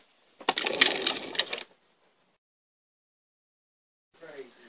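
A sewing machine stitching a seam on training underwear: a short close whirring, rattling burst of about a second, then silence, then a faint brief noise near the end.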